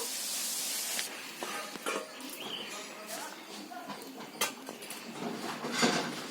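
Drumstick flowers are washed in water with splashing, trickling and clinking against a bowl. The sounds are soft and intermittent.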